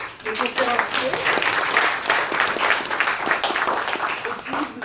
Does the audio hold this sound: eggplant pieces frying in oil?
no